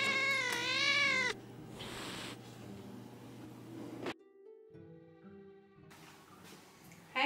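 A house cat lets out one loud, close, drawn-out meow, followed by quieter rustling and household noises with a short stretch of near silence.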